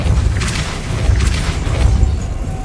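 In Hogwarts Legacy, the Depulso force spell is cast with a loud, dense burst that rumbles and swells twice before settling, close and heavy.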